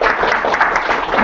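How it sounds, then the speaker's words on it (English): A brief, loud wash of audience applause welcoming a speaker at an F# open source tech talk, dense and continuous with no distinct individual claps. "so let's turn it over to him with a round of applause."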